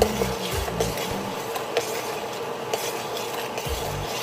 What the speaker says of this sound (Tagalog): tingnan natin yung ating kumukulong caramel syrup. Tingnan natin, haluin natin.